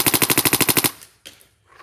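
A Kingman Spyder Aggressor XT paintball marker fires a fast burst of about eleven evenly spaced shots at roughly 17 balls per second, loud and close, then stops, leaving faint handling noises.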